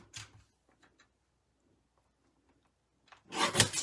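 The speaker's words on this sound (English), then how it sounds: "I'm going to use the new little mini trimmer" A small mini paper trimmer blade slides across paper, giving a short scrape at the start, near silence, then a louder rasping cut near the end.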